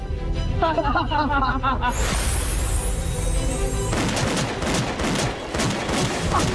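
In a drama scene, gunfire breaks out in a loud burst of rapid shots with crashing impacts, following a brief voiced cry at the start.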